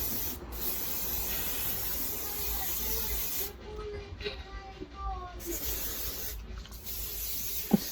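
Bursts of hissing aerosol hair spray applied to a weave, steady for several seconds with brief pauses, close by, with faint talk in the background.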